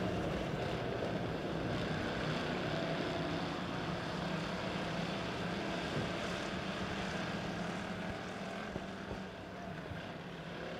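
Pure stock dirt track cars roaring down the front straightaway at Springfield Raceway, a steady distant drone of engines blending into one sustained, moderately faint rumble with no talk over it.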